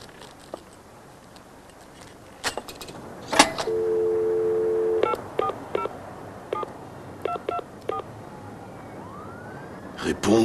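A telephone number is dialed on a keypad, giving a steady sequence of short, clear dual-tone beeps with one longer held tone, close and fairly loud over a faint background hiss, with no voices.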